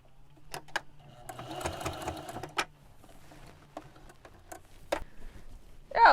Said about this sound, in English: for now I'm just going to do another edge stitch on the other side